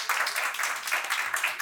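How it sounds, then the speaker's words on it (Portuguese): An audience at a seminar in Rio's Pequena África applauds Luana, a strategy and innovation analyst. The clapping is steady and fairly close, lasting under two seconds, with no speech. "Por favor, uma salva de palmas para a Luana."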